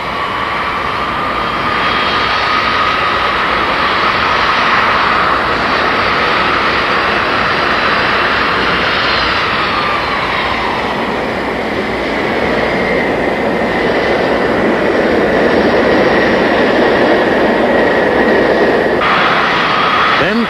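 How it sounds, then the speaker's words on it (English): A Boeing 747 jet taxiing during 1969 taxi tests, with a loud, steady jet engine roar and high whine that shifts pitch as thrust changes, heard continuously at close range under faint narration. "Taxi tests are run and rerun, establishing braking and thrust reverser characteristics at speeds from 80 to 140 knots."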